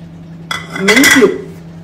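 A metal pan is set down on a stove for frying coriander, cumin and fenugreek, giving a sharp clank followed by a brief ringing, scraping clatter of cookware, close by.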